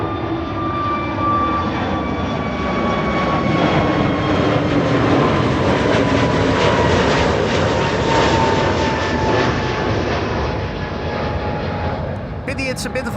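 A Transavia Airbus A321neo in retro livery roars overhead at Amsterdam Schiphol Airport, a loud sustained jet rumble and whine that swells and holds steady for many seconds before cutting off.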